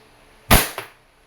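A WE Glock 17 F-Series airsoft pistol with a silver slide fires one sharp, close crack, followed a split second later by a softer mechanical snap as the slide cycles, then quiet.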